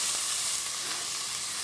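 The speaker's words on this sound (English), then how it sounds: "Love that sizzle of onion." Red onion sizzles steadily in a hot pan, a bright continuous hiss with faint crackles, close and alone without talk.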